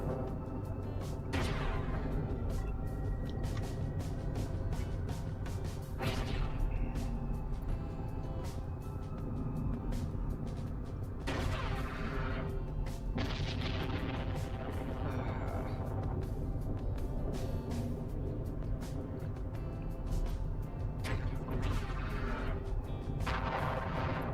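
Missile fire in the space game Eve Online during an Abyssal run, heavy booming launches and blasts repeating over a constant droning hum, with someone talking at times underneath.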